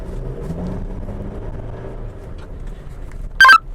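A Chevrolet S10 Z71 pickup's engine rumbles steadily with a low drone as it pulls on a test track, ending in a brief sharp chirp near the end.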